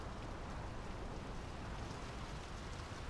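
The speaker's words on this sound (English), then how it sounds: "The rain's picking up." Steady rain falling in the video game Draugen, a faint, even hiss of dense drops with no gaps and no talking.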